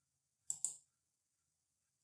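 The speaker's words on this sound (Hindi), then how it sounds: "यहाँ पे राइट क्लिक करिए" A computer mouse gives two sharp, close clicks in quick succession in an otherwise silent room, followed by a faint tick about a second and a half later.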